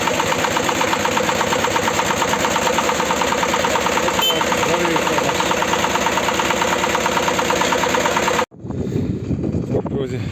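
A tractor engine idles steadily with a rough, knocking mechanical rhythm on its first start after sitting through winter. It runs loud and close, then abruptly drops away near the end, leaving quieter background noise.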